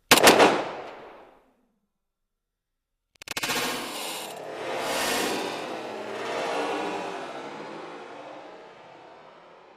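Handgun firing in rapid trigger pulls: one sharp report that rings out and fades, a pause of silence, then a fast burst of shots merging into a long decaying rattle and echo.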